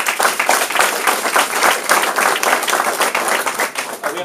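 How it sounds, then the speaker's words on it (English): Audience applause at a mayoral election debate in Massena, a dense steady wash of many hands clapping close and loud, sustained for several seconds with no talk over it. "could we hold applause until the very end?"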